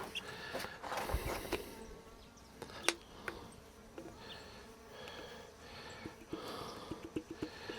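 Bees buzz close by as they gather around sugar syrup, a dense, wavering hum broken by scattered sharp clicks and taps, with no talking.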